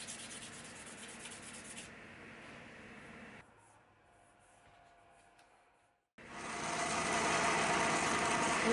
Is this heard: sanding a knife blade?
yes